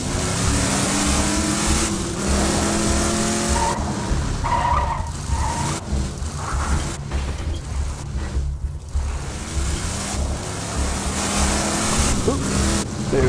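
A car driving in Borderlands 2, with a constant engine drone and skidding tires that persist loudly throughout, while a player's voice talks intermittently over the game sound.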